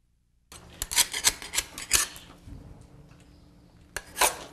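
Excess sealing wax being scraped off molds at a sealing wax maker, a cluster of close, sharp scraping strokes followed by a quieter pause and one more scrape.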